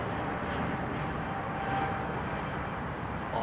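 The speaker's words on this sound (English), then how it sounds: "Might be a Glasgow-bound flight or something like that" An airliner departs at sunset, and its jet engines make a steady, broad roar at moderate distance that holds without a break. No one speaks.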